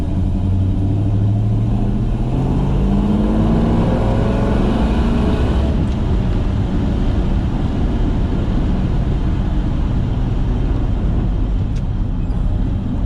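A 1965 Chevrolet Biscayne cruises down a city street in Tacoma at a quick pace, its engine a steady low rumble with rising and falling tones, continuous and close, with road noise throughout and no talking.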